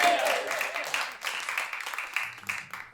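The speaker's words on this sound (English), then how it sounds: "Let's give them a nice round of applause." An audience claps for a couple on stage at a one-man show, a dense, fairly steady burst of applause that ripples on throughout.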